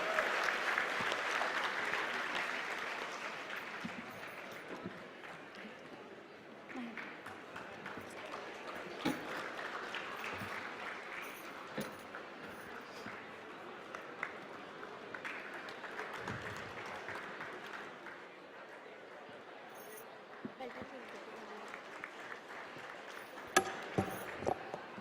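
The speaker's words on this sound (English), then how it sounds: "Please give a big round of applause." Sustained audience applause at a CA students' national conference session, a steady broad wash of clapping that runs throughout at moderate level with a few sharper claps near the end.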